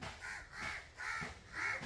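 A crow caws four times in a slow, even rhythm, each call drawn-out and moderately faint, with quiet pauses between them.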